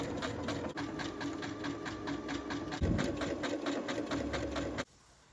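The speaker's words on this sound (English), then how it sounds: "The second and final stitch for the maple leaf is a zigzag stitch with a very short stitch length" A sewing machine stitches a short-length zigzag around a fabric maple leaf, a fast, even mechanical chatter close by that runs steadily and stops abruptly near the end.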